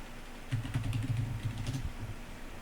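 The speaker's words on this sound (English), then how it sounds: "So I'm just typing in PowerShell again in the address bar" Rapid keystrokes on a computer keyboard clatter in a steady burst of close, soft clicks lasting about a second and a half, with no talking.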